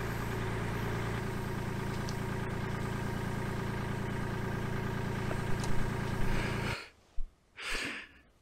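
A tractor engine runs at a steady, close idle-like drone while a whole hog is loaded onto a barbecue cooker at night, then cuts off abruptly, leaving near silence with a couple of brief rustles.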